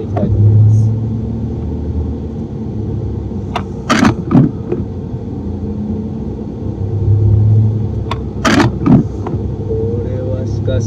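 A vehicle creeps carefully along a road buried in deep snow, its engine a steady low rumble inside the cabin, broken by a few sharp knocks and thumps, with someone talking over it.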